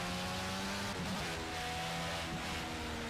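A Dallara DW12 IndyCar in the Project Cars racing game at Road America, its engine droning at high revs through a turn, the pitch dipping and climbing as the throttle is worked, steady and close throughout.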